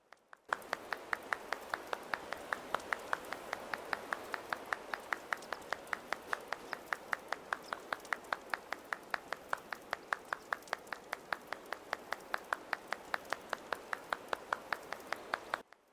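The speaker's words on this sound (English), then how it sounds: "I'm so sorry to just make you listen to the clapping while I was taking a drink" Applause from characters in Animal Crossing: New Horizons: a steady, rapid run of crisp claps repeating evenly for about fifteen seconds, moderately loud and alone.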